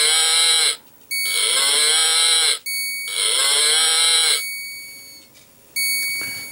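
A cow moo sound for a cowbell project plays as three long, loud, steady moos with short pauses between them, followed by a quieter tail and a small click, with no talking.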